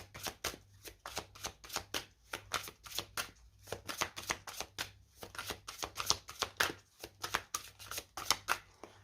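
A deck of oracle cards is shuffled by hand in quick riffling bursts, a rhythmic series of crisp flutters repeating close by without speech.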